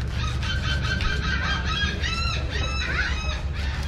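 Seagulls squawk repeatedly and loudly around a fishing boat where a large tuna is being cut up, with a dense chorus of overlapping cries over a constant low rumble.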